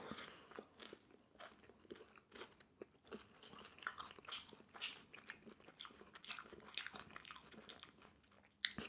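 Close, steady chewing and crunchy biting of sweet and sour pork from a Chinese takeout mukbang, dense wet mastication sounds running continuously without talk.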